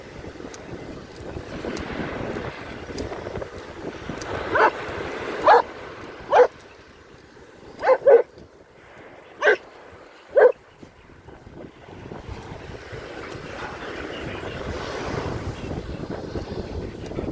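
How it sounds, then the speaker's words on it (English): Several short, distinct dog barks over steady wind and the wash of waves on a beach at Skegness, spaced irregularly through the middle of an outdoor scene. "loads of dogs."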